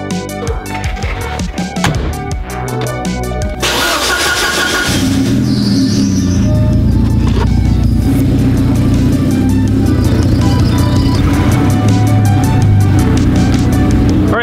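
A 1986 Porsche 944 Turbo cranks with a starter whir, catches after a few seconds and settles into a steady, close-up idle that keeps rumbling loudly until the end, with no one speaking.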